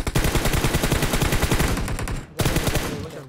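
Rapid automatic gunfire in PUBG Mobile, loud and close, with fast repeated bursts that break off briefly for a short gap before firing resumes.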